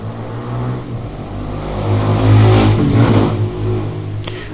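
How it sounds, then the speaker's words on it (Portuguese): A motorcycle engine rises and passes nearby, revving louder in the middle then fading, with a steady low rumble throughout. "vocês ouviram a moto aí?"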